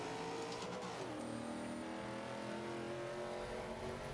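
Car engine in Forza 5, driven with a manual clutch transmission, revs steadily at a sustained, moderately loud level, with its pitch dropping and settling partway through, and no talk over it.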